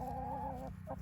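A hen clucks briefly in a backyard flock, a short, soft, close call followed by a quick second note.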